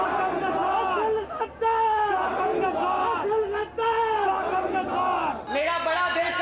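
A crowd chants political slogans in rhythmic unison, loud shouted phrases repeating with brief pauses between them, voices dense and close.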